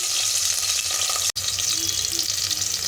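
Garlic, cumin and green chillies fry in oil for dal, giving a dense, steady close-up sizzle with a brief stir-like break partway through.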